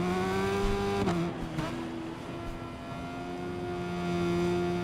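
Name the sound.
motorbike engine revving in video game Ride 5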